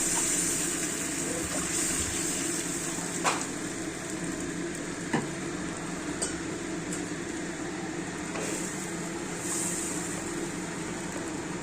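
Water poured into a pan of sizzling pabda fish curry with tomatoes gives a steady, moderate frying hiss and bubbling throughout, with a few soft clinks of utensils and no talk.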